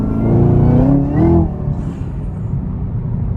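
A Chevrolet Camaro ZL1 engine revs hard while driving, heard from inside the car. There is a loud deep rising roar, then a brief lift and a second surge, settling into a lower steady drone.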